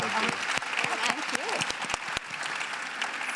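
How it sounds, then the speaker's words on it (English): A panel audience claps at a technology talent event, the applause fairly quiet and mixed with overlapping voices and speech throughout. "Please join me in giving them a round of applause."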